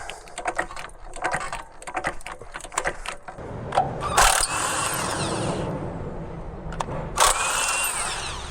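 A power tool on the rear wheel of a Peugeot 307, short rattling bursts followed by two sharp loud whirs of an impact wrench, close up in a workshop with clinking tools between.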